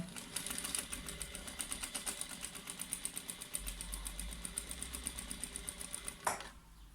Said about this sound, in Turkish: Ve ilk e, çizdiğim bir santimden başlıyorum manşetimi dikmeye.